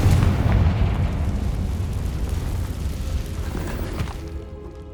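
A Confringo blasting spell explodes in the Hogwarts Legacy video game, a loud booming burst at the start followed by a long rumbling decay that fades over several seconds.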